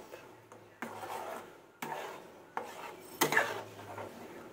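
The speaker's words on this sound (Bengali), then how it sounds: "এবার কিন্তু শুধু নেড়ে যাব আস্তে আস্তে করে" Spoon scraping and knocking in a pan while mango pulp with jaggery (aamsotto) is slowly stirred over low heat, a few soft separate strokes, close and quiet.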